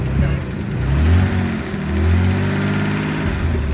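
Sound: 1986 Toyota Supra engine revving

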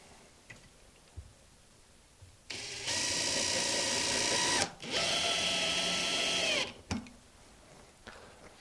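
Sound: power screwdriver driving pan-head screws into LED panel frame

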